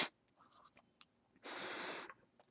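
A pencil sketches loosely on paper, with a few short scratchy strokes followed by a longer sustained scribble, close and quiet, with no talking.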